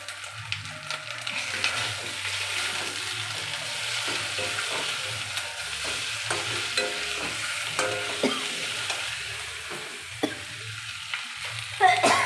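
Potatoes and chili paste fry and sizzle steadily in a pan while a utensil stirs them with repeated scraping clicks, close and continuous, with no talking.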